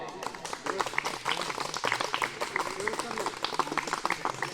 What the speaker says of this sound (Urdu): شاباش، زوردار تالیاں۔